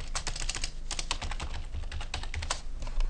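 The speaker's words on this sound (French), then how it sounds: "je vais prendre mon outil texte et taper mon texte" Fingers type quickly on a computer keyboard, producing a dense, irregular stream of close, crisp key clicks with no talking.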